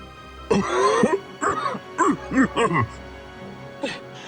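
A person coughs repeatedly in a series of harsh, throaty bursts, close by, with short pauses between them.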